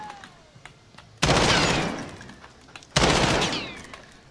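Two short loud bursts of tap-fired gunshots in a video game, each a sharp crack trailing off with a ringing decay, about two seconds apart and alone without talk.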